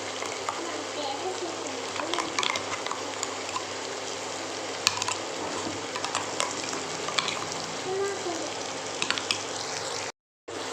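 Brinjal and potato curry with masala is stirred in a pan, giving a continuous sizzle with scraping, clinking spoon strokes close by, briefly cut to silence near the end.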